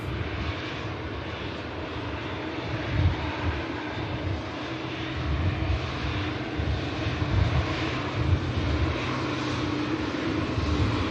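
A fixed-wing airliner lands at Manchester Airport, its engines a loud, steady roar that swells and rumbles across the whole stretch, heard at a distance with no talking.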